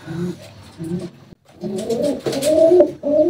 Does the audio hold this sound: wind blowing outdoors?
no